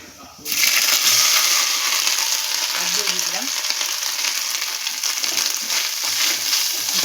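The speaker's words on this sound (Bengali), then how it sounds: "এবার আমি নারকেল কোড়াটা দিয়ে দিলাম" Grated coconut hits hot oil with fried mustard seeds in a pan, bursting into a loud, steady sizzle with a few scraping stirs near the start and light clinks underneath; no one speaks.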